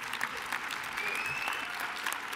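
Quiet applause from a conference audience at a plenary opening session for Mathieu Schwertz, soft and distant, with a voice continuing over the clapping.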